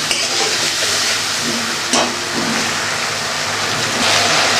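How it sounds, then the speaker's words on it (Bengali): Chicken being sautéed with turmeric in a pan for a Bengali braised chicken curry, giving a steady, loud sizzle with a few stirring scrapes and clinks, and no talking. "এবার ভালো করে কষিয়ে নেব।"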